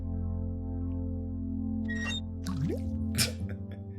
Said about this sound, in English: we might as well fill up the bucket with some water right off the bat